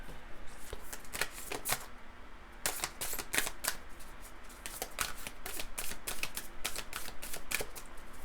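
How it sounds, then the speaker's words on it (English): A large deck of playing cards being shuffled by hand: a steady run of crisp, rapid riffles and snapping clicks repeats close up, with no talking. "sometimes it's hard for me to shuffle what I consider large decks"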